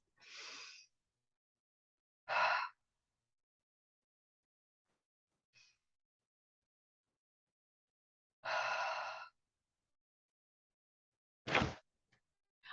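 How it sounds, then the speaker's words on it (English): Two slow, deep breaths taken during a quiet mindfulness moment, each a long audible inhale and exhale, close and soft, with only silence between them. "So I'm going to take two slow, deep breaths."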